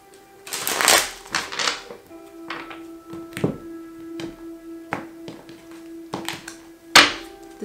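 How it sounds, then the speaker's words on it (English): Tarot cards being shuffled during a reading: a series of crisp riffles and soft taps at irregular intervals, close by, with a steady faint hum in the background. "Let me shuffle one more time"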